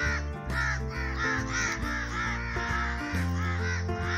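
Crows cawing in a foggy village, with repeated harsh caws in a steady rhythm and several birds calling over one another, loud and close, with a low rumbling background underneath and no talk.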